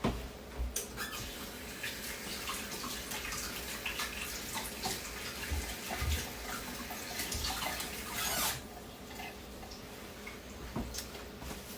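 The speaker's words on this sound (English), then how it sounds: "let me wash my hands again" Tap water runs steadily into a kitchen sink while hands are washed beneath it, a continuous close splashing hiss with brief shifts in the flow and a few small knocks.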